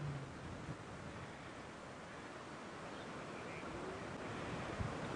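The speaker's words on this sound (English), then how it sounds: "The wind is gusting terribly." Strong, gusting wind buffets the microphone at dawn on a safari drive in the African bush, a dense continuous roar that swells and eases without any talk.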